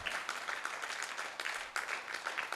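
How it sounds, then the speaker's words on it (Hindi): Applause from an audience at a Lala Pannalal Singhal memorial lecture, honouring the Singhal family: a steady, fairly faint wash of many hands clapping throughout, with no talk over it. "पन्नालाल सिंघल जी के परिवार के लिए एक बार तालियां तो बनती"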